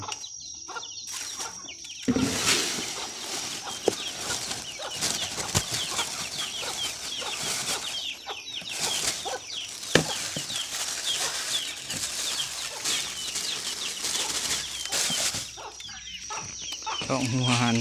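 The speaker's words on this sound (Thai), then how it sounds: "โอ้ไก่" Chickens clucking and calling close by at a bird-keeping spot where drinking water is being changed, with busy overlapping clucks, occasional wing flaps and brief human voice running through the whole stretch.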